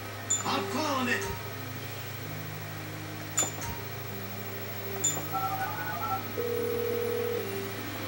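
A phone dials in Grand Theft Auto V: a series of short electronic keypad tones spaced over several seconds, then a longer steady tone, set against a constant low game hum.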